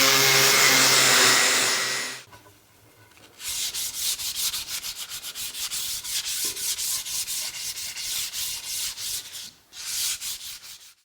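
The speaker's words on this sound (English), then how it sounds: "just clean up some of the table saw burn marks and whatnot. I'm just going to sand these out" Cherry wood is sanded to remove table saw burn marks; after a brief pause a power sander buzzes and rasps in quick, pulsing strokes up close, with a short break near the end and no talking.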